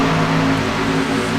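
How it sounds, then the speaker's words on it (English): Race cars at Kentucky Speedway roaring past, a loud continuous high-pitched engine scream with steady harmonic whine and no talk. "These cars definitely know how to scream, and I love the sound of them."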